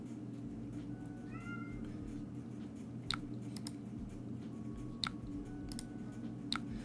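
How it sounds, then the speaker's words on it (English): A cat screeches and meows outdoors with a couple of short rising cries early, heard faintly at a distance over a steady indoor hum with occasional clicks. "My cat is screeching outside."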